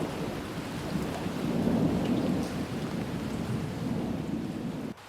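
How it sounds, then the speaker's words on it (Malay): Steady rain pours down with a continuous low rumble of thunder rolling underneath, a dense, unbroken wash of sound that cuts off abruptly near the end. "dah basah dah baju saya. Hujan pula tadi."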